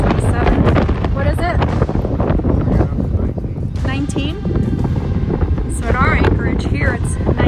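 Strong meltemi wind buffets a sailing catamaran in the Cyclades, a loud continuous roar of wind noise on the microphone with rushing water beneath, while people talk over it throughout.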